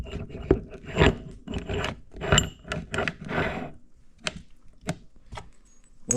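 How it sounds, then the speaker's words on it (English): A hand-twisted reamer clears burrs from freshly drilled metal on a pump mount, making repeated short scraping rasps in an uneven rhythm, close by and fairly loud. "you just take the reamer and you can go through by hand and you can twist them, or twist the burrs off"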